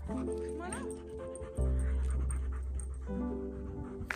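A tired dog panting after a hike on a hot day near Payson, Arizona, with rapid breaths and small whimpers close by, while people talk over it and a whistle-like tone briefly sounds.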